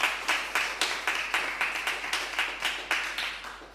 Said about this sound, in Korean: 모두 다 함께 박수 한번 쳐볼까요?